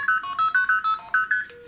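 A telephone rings in a quick repeating electronic trill, loud and close, pulsing about eight times in under two seconds before cutting off, with no voices.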